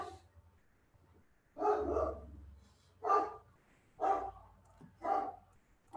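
A dog barks indoors in four evenly spaced, fairly quiet barks about a second apart, each short and sharp, with near silence between them.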